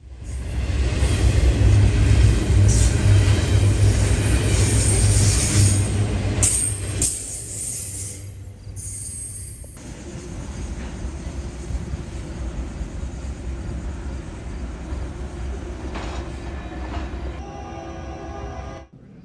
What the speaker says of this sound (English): 178 heads eastbound at milepost 163 near Casey's, with a BNSF Warbonnet leader, followed by a UPGE trailing second.